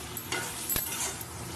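Pointed gourd (potol) cooked as chili potol, frying in spices with a steady close sizzle, a scrape of stirring near the middle, and no talk.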